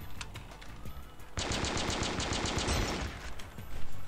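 Sustained automatic rifle fire in the mobile FPS game Danger Close: a long, loud, rapid burst of evenly spaced shots after a quieter start with scattered distant shots.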